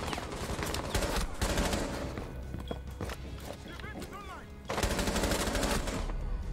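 Rapid bursts of automatic gunfire rattle through a first-person shooter match, loud and close, with a break of scattered shots and footsteps before another heavy volley.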